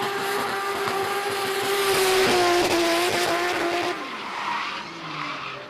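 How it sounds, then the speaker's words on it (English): Drift car tires squeal in a long, loud skid at the Baypark track in Tauranga during D1NZ pro qualifying, with the engine howling beneath; the skid cuts off near the end and fainter track noise remains. "Manages to transition back into the left-hander and riding the wall out, Ben Wilkinson."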